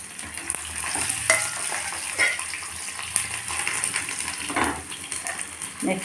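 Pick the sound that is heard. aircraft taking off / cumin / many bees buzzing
cumin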